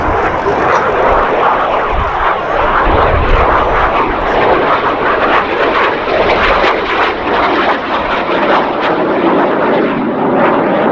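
A loud aircraft engine roar sweeps past at Duxford Air Festival, a steady broadband drone of a North American Harvard or BAC Jet Provost flying low and close, filling the whole clip without voices.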